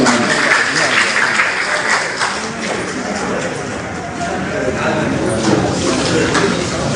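A crowd at a political people's assembly in Kano breaks into loud, sustained applause, a dense wash of clapping that fills seven seconds while voices carry over it.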